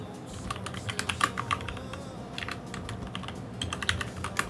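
Rapid clicking keystrokes on a computer keyboard, steady and close, with brief bursts and pauses over a low background hum.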